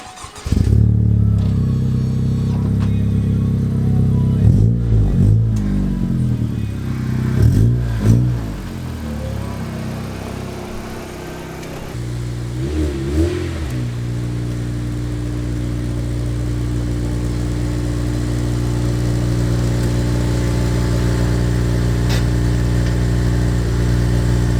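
A 2002 JDM right-hand-drive Honda Civic EP3 Type R engine cranks over several times in short bursts before catching, then holds a steady, close idle with no voices.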